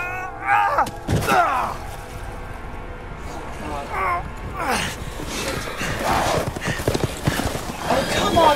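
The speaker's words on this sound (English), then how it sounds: "they can ride horses? This is not even fair." Horses gallop with steady clip-clopping hooves and give a brief neigh in the survival horror video game Resident Evil, set against busy game noise and voices.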